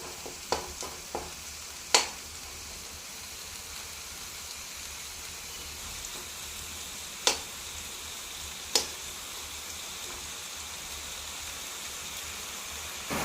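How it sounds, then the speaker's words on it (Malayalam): Chili and coriander roasting in oil in a pan, a faint steady sizzle with a few sharp isolated ticks and pops scattered through, nearby and without talk. "മുളക് മല്ലി നന്നായിട്ടൊന്ന് മൂത്ത് വരട്ടെ"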